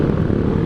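A Suzuki Raider motorcycle engine roars loud and close as it passes by, a dense continuous drone across the whole short moment.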